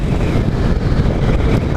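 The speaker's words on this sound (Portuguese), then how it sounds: "Tá uma ventania danada" Strong wind roaring steadily over the microphone while riding a motorcycle on a highway, a loud, continuous broadband rush with low buffeting and no voices.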